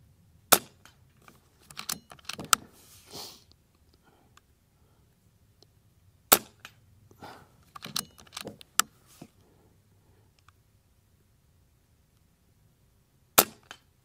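A .177 Avenge-X Classic air rifle fires JSB slugs at steel targets 100 yards out in light wind. Sharp, isolated cracks and pings come a few seconds apart, with quiet stretches between them.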